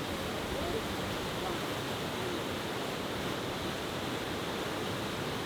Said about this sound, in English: the Stigdosen waterfall, cascading down the mountainside